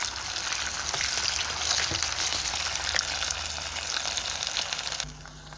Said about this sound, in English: we allow the onion and garlic to cook for a while